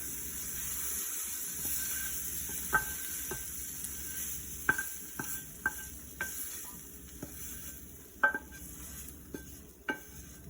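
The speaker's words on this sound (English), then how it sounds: "And now I'm going to add the roux to the pot, which is still boiling, and stir that in." A spoon stirs roux into a boiling pot of mushroom soup with faint steady hiss, occasional sharp clinks against the rim spaced every second or so, no talking.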